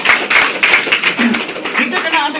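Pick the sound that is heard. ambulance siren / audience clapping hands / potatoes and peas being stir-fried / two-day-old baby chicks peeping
audience clapping hands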